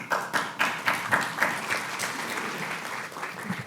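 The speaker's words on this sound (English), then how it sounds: "I'd like to take a moment to acknowledge and applaud the organizers for all their hard work" A conference audience gives a short round of applause for the organizers, steady clapping that swells in quick pulses and then thins and fades over a few seconds.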